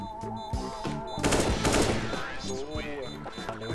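Bursts of rapid gunfire from a video game, crackling over game music and effects, with a dense volley in the middle of the clip.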